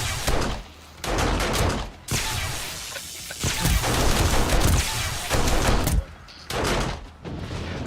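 Automatic turret gunfire in 7 Days to Die with the Undead Legacy overhaul mod, loud sustained bursts of rapid shots with short gaps between volleys, cracking and booming close by.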